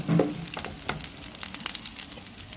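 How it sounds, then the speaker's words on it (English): Potato cutlets stuffed with mince frying on a high flame give off a steady, close sizzle and crackle of hot oil, with no voices. "Fry these cutlets on the high flame."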